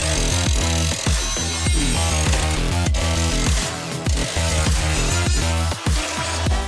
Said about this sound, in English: I'll use an abrasive pad on my little mini angle grinder